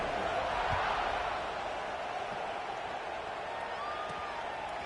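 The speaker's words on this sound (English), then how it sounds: "this crowd is buzzing after that last score." A football stadium crowd buzzes after a touchdown early in the game, a steady far-off roar of many voices with no sharp cheers, holding fairly even throughout.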